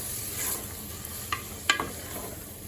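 Prawn biryani masala sizzles softly in a pan while being stirred, with a few sharp scrapes and clinks of the spoon against the pan over a quiet frying hiss.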